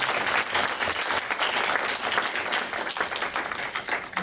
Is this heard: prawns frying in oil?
no